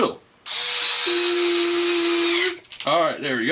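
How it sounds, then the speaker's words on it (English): Close, loud whine of a power drill driving wheel nuts on an Axial SCX10 II RC car, running steadily for about two seconds, then a short speech-like burst afterward. "Drill."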